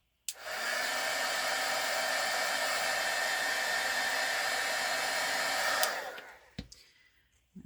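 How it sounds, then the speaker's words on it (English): A craft heat tool blowing hot air onto plastic tags cut from packaging, a steady loud whooshing drone for about six seconds before switching off, followed by a few light clicks and handling sounds. "I have honestly never done the heat tool with this one, so we'll see how it goes"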